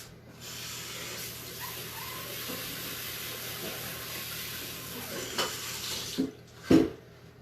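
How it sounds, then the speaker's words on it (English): A baking pan rinsed under a running kitchen tap, a steady soft rush of water with light rubbing, ending in a few sharp clanks of metal as the pan is handled. "Let me just rinse that off real quick."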